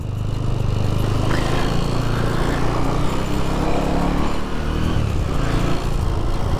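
A 1987 Honda GB250 Clubman single-cylinder motorcycle runs on the road with its choke on, a loud, continuous engine drone close by and a steady, even throttle.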